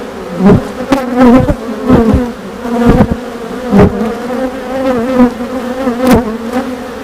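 Honeybees buzz steadily and densely throughout an open hive during an inspection, a close, continuous droning swarm with no talk over it.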